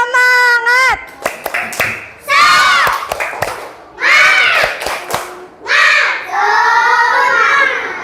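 Indonesian schoolchildren in a classroom chant a rhythmic cheer in unison, punctuating it with sharp claps and beats between loud sung phrases.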